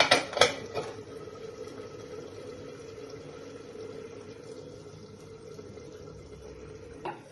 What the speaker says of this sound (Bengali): ঢাকনাটা তুলে দেখছি, মোটামুটি হয়ে গেছে আমার